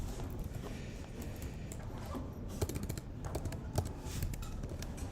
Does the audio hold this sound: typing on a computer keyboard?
yes